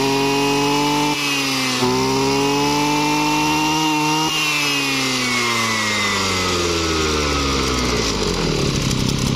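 A used Japanese Kyoritsu 36 cc brush cutter engine runs close by with a buzzing two-stroke whine. It revs up and down in several swells before dropping back toward idle at the end.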